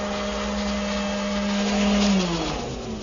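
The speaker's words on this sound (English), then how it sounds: "The rest of the profile is milled using my router shaper table and a 3/8 inch bead concave cutter." A router shaper table milling a wood molding profile with a 3/8 inch bead concave cutter whines steadily and loudly up close, its pitch shifting slightly as the cut loads and then eases.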